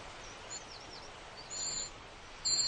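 A young cuckoo chick, grown too large for a tiny warbler nest, begs with thin, high calls that mimic a whole brood of warbler chicks. The calls come in three short, faint bursts over a steady hiss.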